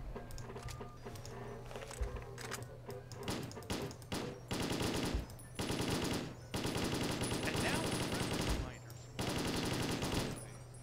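Selective-fire weapon shooting in the Fallout: New Vegas game, with long rapid automatic bursts of gunfire broken by short pauses, loud and close, over a steady low game hum.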